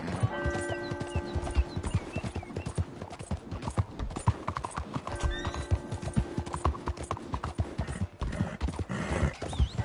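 Horse hooves clip-clop steadily through the Red Dead Redemption 2 game world, with a whinnying neigh rising near the start and again midway, over layered in-game ambience and music.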